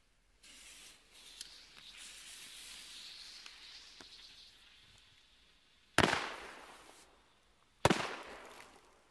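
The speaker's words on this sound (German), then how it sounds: "das waren richtig geile Böller" Two loud, close Weco Superböller 1 firecrackers go off a couple of seconds apart, each a sharp bang that decays into ringing echo, after a soft hissing fuse sound outdoors on New Year's Eve.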